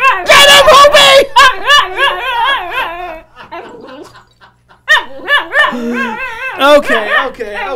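A dog barks and lets out high, wavering whines and cries, loud and close, with people talking excitedly around and over it.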